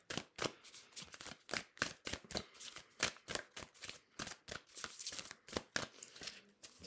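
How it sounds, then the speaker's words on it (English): Oracle cards being shuffled close up, quick riffling bursts repeating in a fast, uneven rhythm, fairly quiet, with no talking. "Turn them around, sometimes they shuffle better this way."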